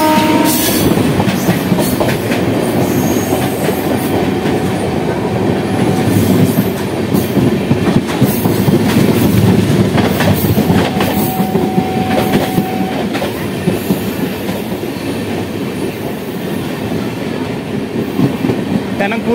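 The Tanakpur Dehradun Express rumbles past at close range, loud and continuous, with steady wheel clatter. A brief metallic squeal rises partway through.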